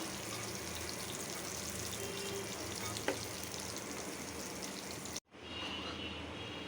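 Jackfruit seed kebabs sizzling in oil with a constant crackling hiss, which cuts off abruptly near the end before a quieter hiss resumes.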